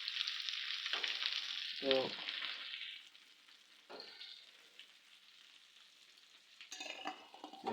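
Giant freshwater prawns, golda chingri, fry in a pan with a loud steady sizzle that fades out partway through, broken by a few stirring scrapes and a short word from a voice.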